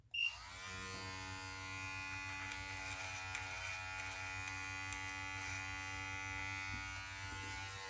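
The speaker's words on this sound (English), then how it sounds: "I like to trim those right there." An electric beard trimmer works on the hair at the back of the beard, switching on with a brief click and then running as a steady, close mechanical buzz with a faint tonal whine throughout.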